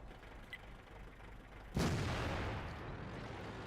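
Artillery rounds in World of Tanks land in a single sudden heavy boom, followed by a broad rumbling tail that slowly fades over a quiet background.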